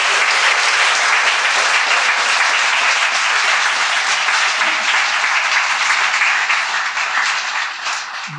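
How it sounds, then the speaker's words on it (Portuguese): An indoor audience at a literary festival panel applauds the interpreters with steady, dense clapping that stays loud throughout and tapers slightly near the end. "para a gente agradecer e aplaudir as nossas intérpretes, a Mili Silva e a Miriam Cachilé"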